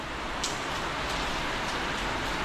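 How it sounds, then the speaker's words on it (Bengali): Heavy rain pours down outdoors, a steady, dense hiss that holds evenly throughout with no voices over it. "ভালো জোরে বৃষ্টি নেমে গেছে"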